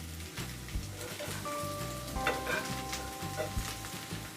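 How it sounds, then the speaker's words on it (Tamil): Curry leaves sizzle and crackle in hot oil with taro pieces in a pan, while a spoon scrapes and stirs in a steady, repeating rhythm, close and clear, with no talking. "கருவேப்பிலை சேர்த்துட்டு கலரி விட்டுருங்க"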